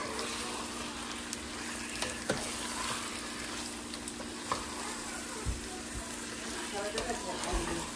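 Meat frying with masala spices in a pan, a steady close sizzle with occasional stirring clicks and scrapes throughout, faint background voices underneath.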